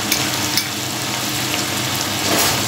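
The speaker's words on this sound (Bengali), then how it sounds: "এটা মশলাটাকে ভেজে নিতে হবে।" Ground spices, including turmeric, cumin and chilli powder with salt and sugar, fry in a hot pan for chhanar kalia, giving a steady, close, loud sizzle that runs unbroken throughout.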